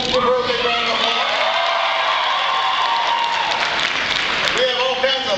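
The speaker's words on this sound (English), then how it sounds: "Big round of applause" A crowd at a Barack Obama appearance at Benedict College in Columbia, South Carolina, applauds in a dense, sustained roar, with cheering and whooping voices mixed in throughout.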